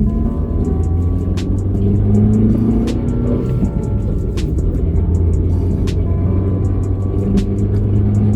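A 2023 Suzuki Swift GL with manual gearbox driving on the road, its small petrol engine droning loudly from inside the cabin with a steady low hum and rising rev tones, plus faint intermittent ticks.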